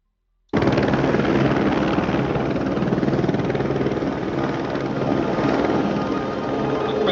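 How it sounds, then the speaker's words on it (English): A helicopter's steady, loud rotor and engine drone runs continuously and close after a brief silence at the start, with no talking over it, from footage of a helicopter that strikes a cable and crashes. "here's the helicopter crash"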